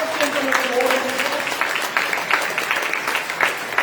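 Church congregation clapping, a dense steady patter of many hands at moderate distance, with a brief tonal voice or hum near the start.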